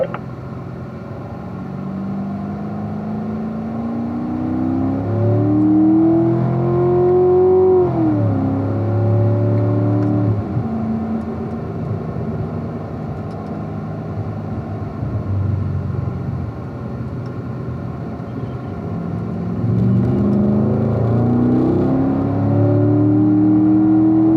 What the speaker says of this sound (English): we are good to just go ahead and head right back onto the track